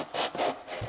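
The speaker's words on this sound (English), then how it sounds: "This hobby saw is one of my favorite tools. It's so good at sawing" Strokes of a hobby saw cutting wood while building a blacksmith tabletop gaming board: three or four quick, rasping back-and-forth strokes, close and fairly loud, alone.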